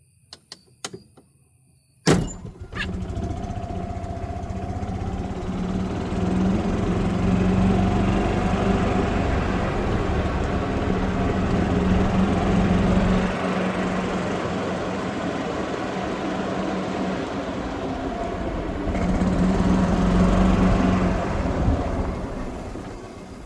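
Golf cart fitted with aftermarket lights driving toward home, a steady motor and road rumble running close and fairly loud after a sharp clunk at the start, with no talk over it.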